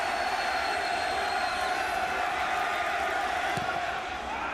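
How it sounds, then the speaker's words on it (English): A stadium crowd at the 2008 MLS All-Star Game greets David Beckham with loud, sustained applause and cheering, a dense continuous roar that holds steady throughout. "Greeted with rapturous applause as the flashbulbs go off around"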